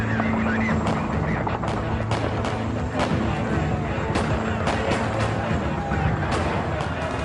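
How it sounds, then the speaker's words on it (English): Gunfire erupts during the ATF raid on the Branch Davidian compound at Mount Carmel, a dense, continuous barrage of cracks and thuds layered under noisy commotion and indistinct voices, with no pause throughout. "As the first agents approach, gunfire erupts."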